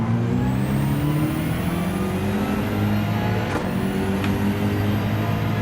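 A BMW race car in Gran Turismo 7 passes on the inside, a continuous loud engine drone with a faint rising whine and a brief swoosh midway, with no talking.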